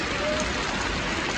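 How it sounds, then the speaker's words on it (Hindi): Heavy rain pours down on a village, producing a dense, steady roar that fills the whole short stretch with no let-up. "किस कदर जोरों शोरों से बारिश हो रही है"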